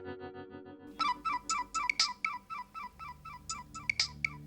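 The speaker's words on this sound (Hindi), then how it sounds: "अननोन नंबर, लगता है किसी फिल्म स्टार का फोन है।" A phone ringtone sounds for an incoming call from an unknown number, a repeating electronic melody in rhythmic bursts that starts after a short lead-in and stays loud and clear, with no talking over it.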